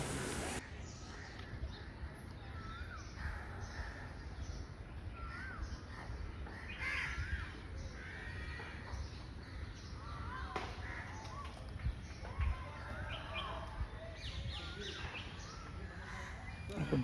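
Crows cawing and other birds chirping and calling in a park, scattered calls near and far over a steady outdoor hiss, fairly faint throughout.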